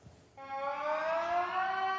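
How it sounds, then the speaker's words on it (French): A civil defense siren at a chemical facility emergency exercise in Amiens, France, starts up after a brief quiet moment and holds a loud, steady wailing tone. "la sirène retentit et marque le début de l'exercice"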